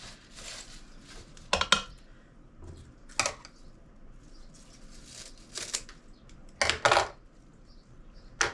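A knife chops vegetable scraps on a cutting board in a home kitchen, with a handful of sharp, irregular knocks and scrapes standing out against a quiet background.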